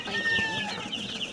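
Young chicks cluck and peep in a short burst of soft, overlapping calls close by, with faint rustling from scratching around an outdoor chicken yard.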